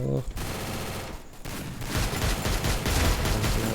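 Mobile shooter game gunfire: rapid bursts of automatic shots, dense and loud, rattling almost continuously after a brief pause.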